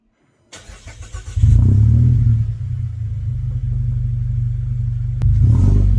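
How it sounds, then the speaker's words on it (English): A 2024 Mazda 3 Sport GT with a badly leaking exhaust starts up and settles into a loud, steady idle rumble close by, with a brief blip partway through and no talking. "Here is the world's worst exhaust leak."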